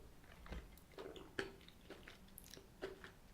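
Quiet, close chewing of Ritter Sport White Cinnamon Crisp, a white chocolate bar with crispy rice and cinnamon chunks, giving several soft crunches and moist bites spaced about half a second apart, with no talking.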